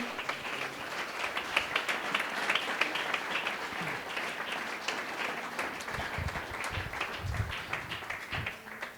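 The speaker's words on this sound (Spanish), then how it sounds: "Aleluya, dele ese aplauso al Señor." A church congregation at a Sunday school family-week service applauds, with lively uneven clapping throughout and a few low thumps and voices mixed in toward the end.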